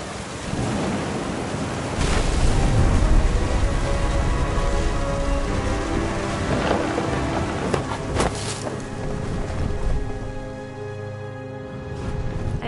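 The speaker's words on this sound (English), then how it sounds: "Thunder sounded much too close and full of angry power" Thunderstorm with rain in the video game What Remains of Edith Finch: a steady, loud wash of rain with deep rolling thunder that swells and fades throughout, with no voices.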